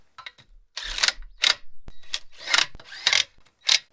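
Lug nuts going onto a 1969 Mustang Mach 1 wheel, a series of short metallic clicks and ratcheting scrapes in separate bursts, close and fairly quiet with silent gaps between.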